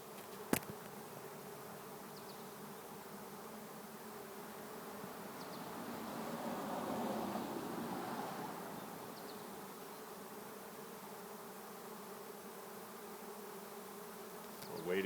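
A swarm of hundreds of bees buzzes in the trees around a capture box. The dense, steady hum swells a little mid-way and sounds alone, with no voices.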